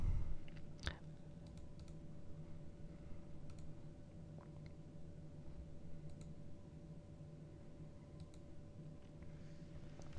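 Sparse computer mouse clicks while testing anchor links on a WordPress site, a few faint sharp ticks spread over a steady background hum, with one louder click near the start.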